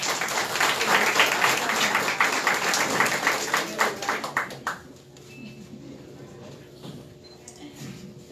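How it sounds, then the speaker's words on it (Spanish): Applause from the audience at an award ceremony in Chancay for a 21-year-old honoree: a loud burst of many hands that thins into separate claps and stops after about five seconds, leaving a quiet room. "un aplauso por favor"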